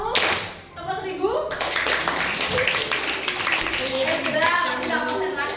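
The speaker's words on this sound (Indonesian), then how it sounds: "Tepuk 1, tepuk 2, tepuk 3" A group of participants in a teacher training session claps together on cue, sharp rhythmic bursts of hand claps mixed in with a leader's spoken counting, heard close and clear.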